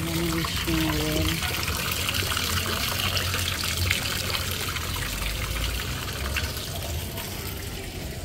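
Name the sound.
water trickling in a hotel wishing well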